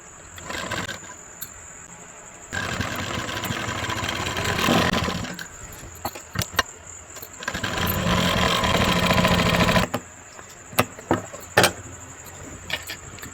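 A sewing machine stitches a designer blouse in two sustained motor runs separated by a quiet pause, with scattered clicks and handling taps around them.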